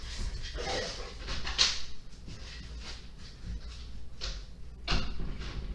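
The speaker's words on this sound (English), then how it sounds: "Just my dog." A dog nearby gives several short, scattered barks and yelps at irregular intervals, fairly faint, over a quiet indoor background.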